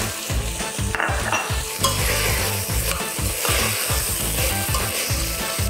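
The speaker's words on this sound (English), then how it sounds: "Now we're going to add the chorizo." Chorizo frying in a pan with gently sauteed vegetables, a loud, close sizzle with rhythmic scraping and stirring strokes throughout.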